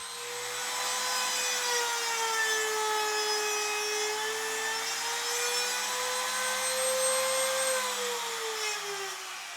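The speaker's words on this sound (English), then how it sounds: "I'll just use the router bit to cut the actual slot up about 1/4 inch" Router bit cuts a slot into a wooden mirror frame, a steady high whine with a drifting tone that runs continuously and close by for several seconds.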